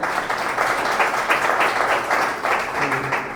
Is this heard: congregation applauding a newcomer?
yes